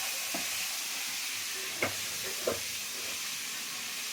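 Eggs fry in a pan for a spicy egg curry, making a soft, steady sizzle with a few faint pops and no voices.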